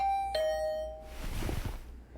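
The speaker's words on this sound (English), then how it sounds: "Hearing the doorbell stubbornly ringing again and again." Video game doorbell rings out with a bright two-tone ding-dong chime, sustaining and fading, followed by a short burst of low, muffled knocking or movement; no talking.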